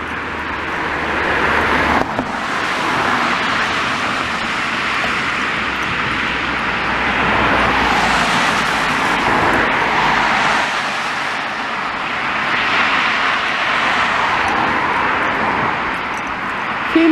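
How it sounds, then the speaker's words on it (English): Road traffic on a street in Blackpool, with cars passing steadily at moderate distance, a continuous broad rumble and swell of tyres and engines rising and falling as vehicles go by. "Few more cars on the road now."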